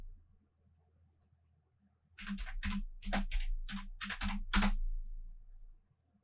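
Quick bursts of keystrokes on a computer keyboard as a web search is typed, about a dozen close, crisp clicks clustered over three seconds after a quiet start.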